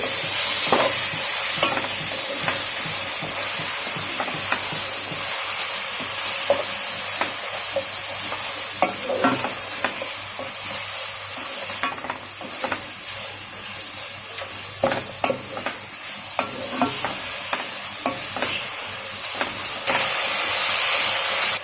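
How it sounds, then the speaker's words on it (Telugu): A spoon stirs curry in a pan with a steady sizzle and hiss, with scraping strokes repeating unevenly throughout. "ఇదంతా బాగా కలుపుకోవాలి"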